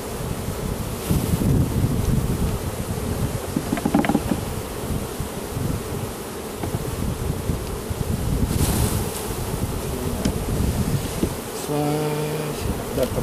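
Honey bees buzz around an open hive as frames are handled, a continuous close-up droning hum with some wind noise on the microphone and occasional handling sounds.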